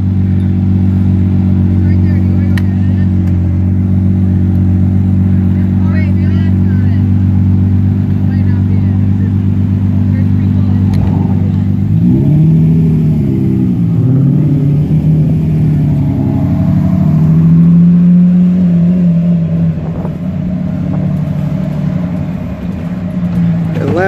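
A Dodge Demon and a Lamborghini Murcielago LP640 idle with a deep, loud rumble that rises into short revs about halfway through, with people talking over the engines.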